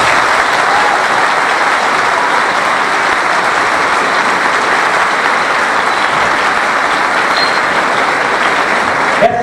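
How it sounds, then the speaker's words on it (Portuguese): A large audience at a women lawyers' conference of the Brazilian Bar Association in Mato Grosso do Sul applauds loudly and steadily for the whole stretch, a dense, even roar of clapping. "Uma salva de palmas para todos."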